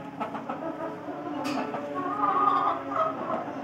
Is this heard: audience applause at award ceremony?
no